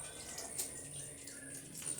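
Water draining out of salted shredded cabbage or tree collard greens while making coleslaw, a faint continuous trickle with light dripping, close and quiet.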